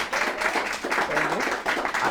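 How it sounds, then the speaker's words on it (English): An audience at a live conversation event with Kevin Powell at Uncle Bobbie's gives moderately loud, sustained clapping for Stephanie Renee, with a voice briefly audible over it. "Can we also give Stephanie Renee a round of applause?"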